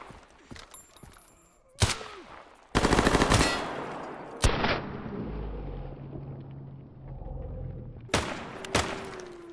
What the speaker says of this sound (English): Well, that's a big gun.